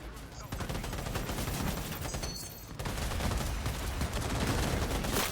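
Dense, sustained gunfire from a Cyberpunk 2077 firefight rattles on without pause, loud and close, broken by a brief lull before the volley resumes even heavier.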